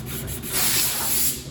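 Hand sanding a wooden mirror trim frame with 120-grit sandpaper, a short close rasping rub that swells louder midway through, with no talking.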